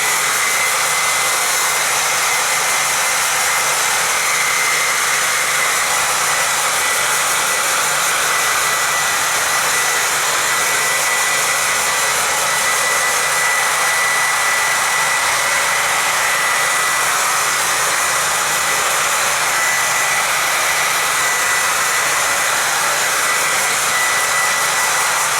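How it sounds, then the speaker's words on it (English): A hair dryer blows steadily on fresh paint, a loud continuous whooshing hum with a whining motor tone that holds for the whole stretch without pause or speech. "I'm going to make sure that it's dry by using my hair dryer again"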